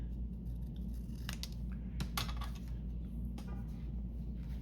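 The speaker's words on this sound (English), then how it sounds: "We're going to cut right about here anyway." Scissors snip through stiff-backed paper being trimmed for a craft project, a few sharp close cuts spread across a quiet room hum.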